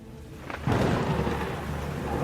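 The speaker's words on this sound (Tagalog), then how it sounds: "bumuhos ang malakas na ulan" Heavy rain and a loud thunderclap during a storm: a low rumble builds briefly, then a sudden crack gives way to a dense, steady downpour that continues to the end.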